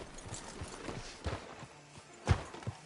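Sparse, soft video-game horse hoof clops on a hard surface at a slow walking pace, with one sharper thud near the end.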